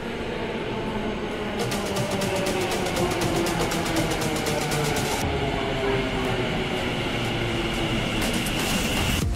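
Ahmedabad metro train in motion, a steady rolling rumble with rhythmic wheel clatter and a high whine that rises and fades, heard from inside the carriage with no talk.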